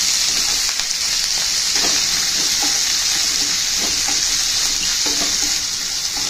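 Chopped green chillies and onions frying in hot oil while being stirred, a loud continuous sizzle with intermittent scrapes and clinks of the spoon against the pan.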